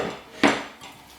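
A utensil scraping battered chicken wings around a bowl, a quiet rasp followed by one sharp clattering scrape, close by.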